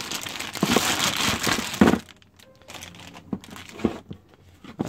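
A standard laptop charger for an Acer Predator Helios 300 gaming laptop is unwrapped, its plastic packaging crinkling and tearing loudly for about two seconds before quieter rustles and small knocks follow.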